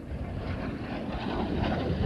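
A plane roars through a low pass at the 1998 Westover air show, a steady broadband engine and airflow rumble held close and loud throughout, with some wind buffeting on the microphone.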